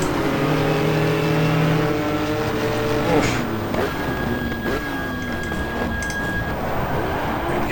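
Turbocharged Porsche race car engine in GTR2 at a 1994 Suzuka four-hour race, a steady loud drone with shifting tones and gear changes, other cars' engines mixed in, and a voice talking over it.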